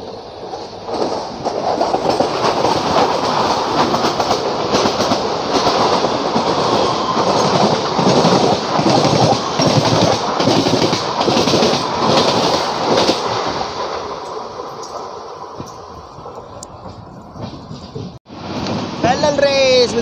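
Bandra SF Express running at speed between Jaipur and Bandra, heard from inside: loud continuous rumble with steady rhythmic clickety-clack of wheels over rail joints, easing near the end before a brief sharp clatter.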